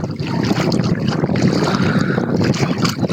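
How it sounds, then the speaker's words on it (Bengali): Strong wind buffeting a boat on a wide river, a loud continuous roar of gusts on the microphone over rumbling water and engine-like low noise, with no clear speech. "আমার কথা একটু কম শুনতে পারেন কারণ এখানে অনেক বাতাস প্রচুর বাতাস"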